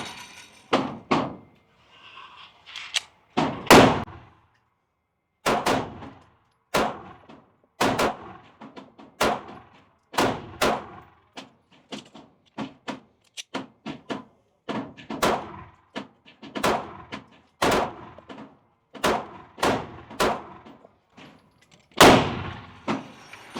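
Pistol shots from a SIG P365 XL and an FN Reflex XL fired at a range, a long series of sharp, loud individual reports spaced about a second apart with a few quick doubles.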